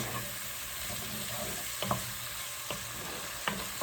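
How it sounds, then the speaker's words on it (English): Onions sautéing in a pan over medium-high heat, a soft, even sizzle with a few light stirring taps, quiet and steady, no speech. "now we're just going to saute these onions just for a few minutes"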